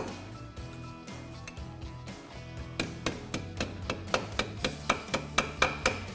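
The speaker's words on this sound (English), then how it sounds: "and then hammer your tabs down." Repeated metal hammer strikes ring out in a steady rhythm, about a dozen sharp blows close by hammering down brake line tabs on a 1965-1966 Mustang, following a stretch of quieter clanking.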